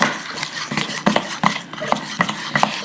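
A spoon stirs thick powdered-sugar glaze for blueberry biscuits in a bowl, giving soft scraping and light clinking strokes at an irregular, fairly quick pace, close and quiet, with no one talking.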